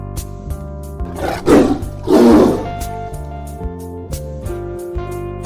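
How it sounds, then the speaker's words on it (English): A tiger roars loudly in two big bursts over a background of steady music, close and dominant, with no talk. "T for tiger."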